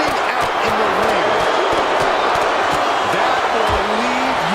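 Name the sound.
crowd cheering in WWE 2K25 video game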